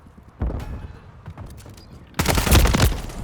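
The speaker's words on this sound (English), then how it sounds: "Oh, they were just gunshots." Gunfire in the Call of Duty Modern Warfare 3 video game, a single sharp shot followed by a loud burst of rapid fire, with softer thuds and game noise between.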